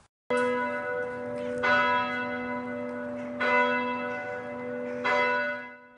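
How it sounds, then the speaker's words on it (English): The bells of Wells Cathedral ring out at dawn, three clear, resonant strikes spaced about every second and a half, each leaving a long humming overtone that sustains between them, with no voices. "the bells of the cathedral rang"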